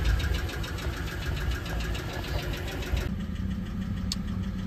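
A car engine idles steadily at close range, a loud continuous rumble with a faint rhythmic pulse, while the vehicle sits parked awaiting brake parts and its leaking caliper is inspected.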